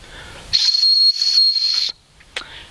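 A small survival-kit whistle mounted on top of a ferro rod is blown in one steady, shrill high-pitched blast of about a second and a half, loud and close, followed by a short faint chirp.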